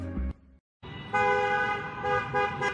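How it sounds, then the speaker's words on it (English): Car horns honk in stop-and-go road traffic, a short toot, a brief pause, then a louder sustained blare held for over a second, close by. "And we still in traffic."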